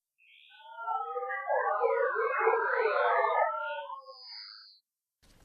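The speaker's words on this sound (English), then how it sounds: "there was an audio file called 719hz.wave. It plays this eerie sound." An eerie warbling synthetic tone from an audio file named 719hz.wave, a sweeping, siren-like howl that rises, lingers for several seconds and fades, heard alone with nothing else.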